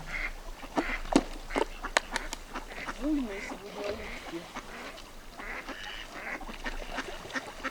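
A flock of ducks quacks loudly and excitedly while feeding nearby, with splashing water and a person speaking over the commotion.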